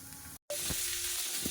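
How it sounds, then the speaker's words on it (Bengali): Fresh katla fish lightly frying in oil, a dense close sizzle broken by a short silent gap, then resuming steadily with small pops, no talking. "টাটকা কাতলা মাছ অত বেশি ভাজলে ভালো লাগে না হালকা করে ভেজে নিলাম"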